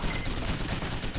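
Rapid machine gun fire in the Alpha Protocol video game, a dense continuous burst of shots throughout the short clip.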